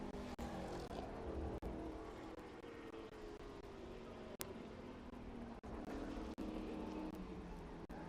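Trans Am TA2 race cars lapping Watkins Glen during qualifying, a continuous loud engine roar with shifting pitch as cars pass and accelerate, no voices over it.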